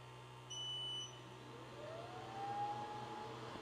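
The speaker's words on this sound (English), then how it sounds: "There we go, it beeps." A short electronic beep sounds as a Creality Falcon 2 Pro 22W laser engraver is powered on, followed later by a rising tone, over a low steady mechanical hum.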